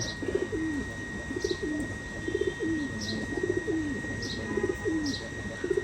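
A Firozpuri pigeon coos near at hand in a regular rhythm of short, throaty rolling calls, about five or six times in a row, over a soft steady background hum.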